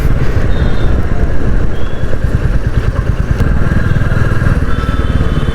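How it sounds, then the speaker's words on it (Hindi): A Royal Enfield Classic 350 BS6 single-cylinder motorcycle is ridden and sped up, its thumping engine loud and continuous, with road and wind rumble and no talk. "अब थोड़ा सा भगा सकते हैं बाइक को, तो थोड़ा सा भगाएंगे भी आज"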